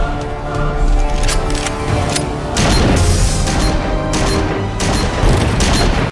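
Gunfire and explosive booms from the animated series RWBY, a dense run of loud blasts and crashing impacts layered over music, with several sharp bursts across the passage.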